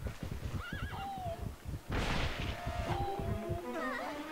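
A horse in the video game The Legend of Zelda: Twilight Princess HD whinnies in a loud, wavering neigh, repeated twice, over soft hoof thuds and game sound.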